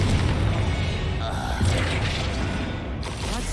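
Confringo fire spell blasts in the Hogwarts Legacy video game, a dense run of booming bursts and mechanical clatter layered with game effects, loud and continuous throughout.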